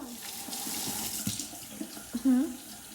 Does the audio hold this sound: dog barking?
no